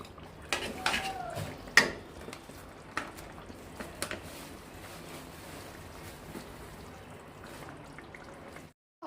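Spicy chicken fry stirred in a pan after the oil separates, with scattered metal spoon scrapes and clinks against the cookware over a steady sizzling hiss.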